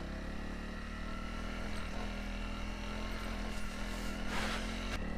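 Honda CRF300L single-cylinder motorcycle engine running steadily with a low, continuous drone and mild revving, close and fairly loud throughout, with a brief brighter swell near the end.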